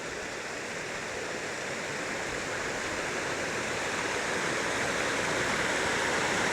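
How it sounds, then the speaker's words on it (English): Steady rushing water of a brook carrying melted snow near Echo Lake, New Hampshire, flowing continuously, a constant broadband wash with no pauses, fairly close and moderately loud. "here you can see a brook still collecting some melted snow"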